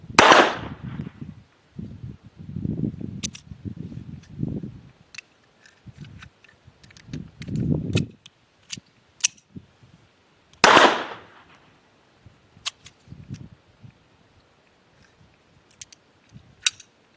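A Jimenez JA-22 pistol fires Remington Golden Bullet ammo at an outdoor range, with two sharp, loud gunshots several seconds apart, along with quieter clicks and handling noises between them.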